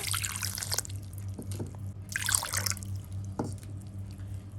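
Plain room-temperature water is poured into puttu rice flour in two short splashy bursts, the first at the start and another a little later, with faint drips and quiet gaps between.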